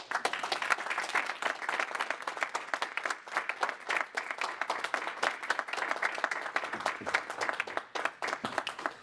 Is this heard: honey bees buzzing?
no